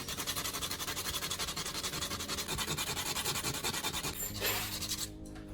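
Solid copper wire having one end sharpened, a steady rhythmic rasping scrape of filing or sanding repeated close up for about five seconds, then tapering off.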